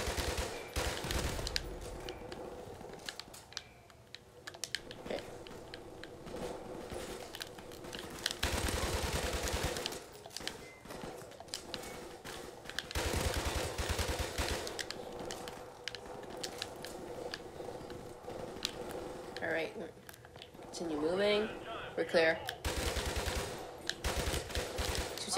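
Automatic G3 rifle fire in Call of Duty Modern Warfare, repeated bursts of rapid shots with brief pauses, loud and close, mixed with other game sounds and a faint voice.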